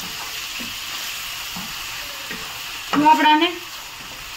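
Onions frying with salt in a pan for a cashew-garlic curry, a steady close sizzle that swells into a louder burst of stirring and scraping near the end, with a voice speaking briefly over it.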